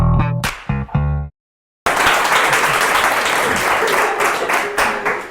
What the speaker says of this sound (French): applaudissez-le quand même.